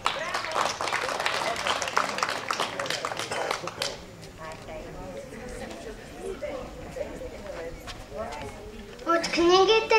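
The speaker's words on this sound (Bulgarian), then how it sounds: "Моля за вашите аплодисменти." Audience applause at a village celebration in Kurkina for Vasil Levski's birthday, held at the local community hall; dense clapping fills the first four seconds, then thins out under talk and some children's voices, with a brief burst returning at the end.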